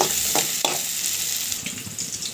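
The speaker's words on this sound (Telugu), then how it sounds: "ఆనియన్స్ బాగా ఎర్రగా వేగనివ్వాలి" Onions and slit green chillies frying in oil in a pan, a close, steady sizzle with a few stirring clinks over it, no talking.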